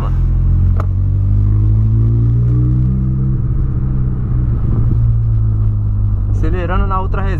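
Car engine revving hard while accelerating on the Ultra Reserva road, a loud continuous low rumble that rises in pitch, with people talking over it.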